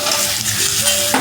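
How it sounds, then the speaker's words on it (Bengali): Diced potatoes tipped into a pan of oil-separated, fried spice masala for Bengali aloo dum, giving a loud, dense sizzle with stirring scrapes that swell sharply near the end. "আর এখানে আমি এখন আলুটা দিয়ে দেব।"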